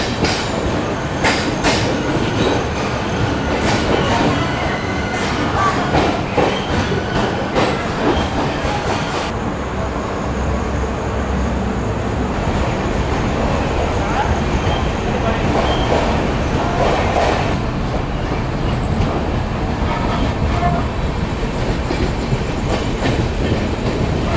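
The Duronto Express from Howrah to Mumbai rolls along at night, running late, with a continuous loud rumble and rattle of the carriage, rhythmic wheel clatter and occasional squeals, heard from inside the coach with faint voices in the background.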